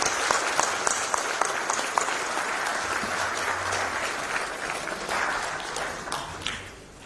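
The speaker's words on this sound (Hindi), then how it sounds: "जोरदार ताली के साथ स्वागत कीजिए" Loud, sustained applause from a large crowd as the chief minister comes on stage at a Bureau of Indian Standards foundation day event, dense clapping with sharper individual claps, fading slightly at the end.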